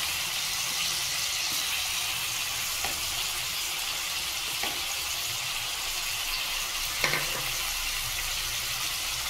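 Chicken curry with whole tomatoes frying in a pan, a steady close sizzle throughout, broken by a few faint clicks and stirring knocks.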